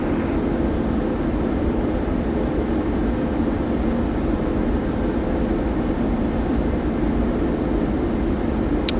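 Steady low engine rumble of a PMDG 737-800 airliner rolling in a flight simulator, departing Singapore, a continuous broadband drone with no speech.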